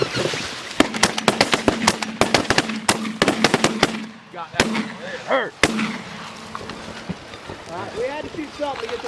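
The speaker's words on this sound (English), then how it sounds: "Alright, we had to shoot something to get some birds up in the middle." A volley of sharp shotgun blasts cracks in quick succession during a waterfowl hunt, fired to flush birds, followed by scattered further shots with goose calls and people talking underneath.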